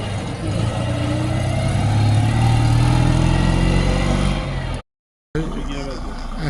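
Citroën Dyane car engine driving past during a rally raid, a mid-pitched engine drone that swells as it passes close and then fades, followed by a brief cut and more distant vehicle noise.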